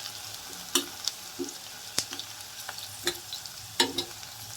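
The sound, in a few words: vegetables frying in a pressure cooker for saagu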